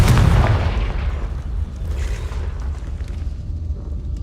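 A Confringo blasting spell explodes in Hogwarts Legacy: a loud, deep boom at the start that rumbles and rolls on, fading slowly, with no talk over it.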